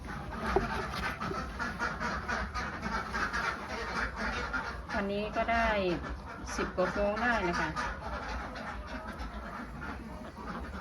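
Khaki Campbell and Yi Liang laying ducks at a farm pen give a few drawn-out quacks near the middle, mixed with steady flock chatter, while someone talks throughout.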